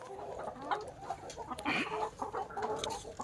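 Laying hens cluck softly and continuously in a backyard free-range farm, with a short burst of louder squawking midway. Background rustling runs throughout.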